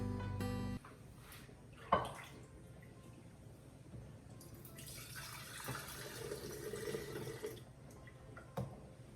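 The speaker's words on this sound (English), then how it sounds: "I'm now going to pour the broth into glass containers and let it cool" Homemade bone broth poured into glass containers, a soft steady trickle of liquid with a few light drips and clinks of glass, quiet and close.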